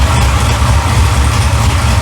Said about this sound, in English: I'm trying to record right now with the exhaust in the background